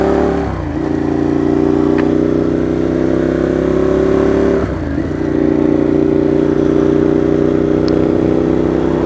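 A 2015 Ducati Monster 821 with its heavy stock double-barrel exhaust runs steadily while riding, a loud, continuous engine drone with two brief gear-shift dips in pitch and no talk.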